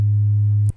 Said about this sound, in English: So we have our sine wave here.